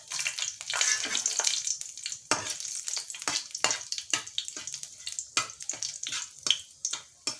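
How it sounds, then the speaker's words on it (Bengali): Panch phoron and whole dried red chillies hitting hot oil for a bottle gourd pickle, crackling and spitting in uneven bursts, close and fairly loud, with brief stirring noises between pops. "তেলটা গরম হয়ে গেছে এখন আমি দিয়ে দেবো পাঁচফোড়ন আর দিয়ে দেবো গোটা শুকনো লঙ্কা"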